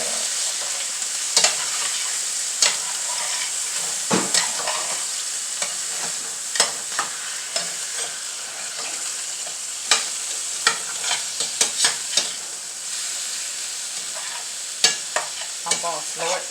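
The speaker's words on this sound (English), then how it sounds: "I'm going to stir it up" Food frying in a pan on a stovetop with the heat turned down, a steady sizzle broken by repeated scraping clicks of a rinsed spoon stirring it, close and alone with no talk.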